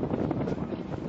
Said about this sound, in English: I think it's the wind